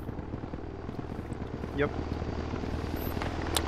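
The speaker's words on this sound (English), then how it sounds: "Russian helo, dropping Alpha 5." A Russian transport helicopter flies in a Project Reality military game, with steady rotor chopping throbbing under radio chatter as a short voice speaks.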